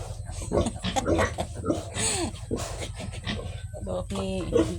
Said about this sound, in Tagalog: Mga baboy.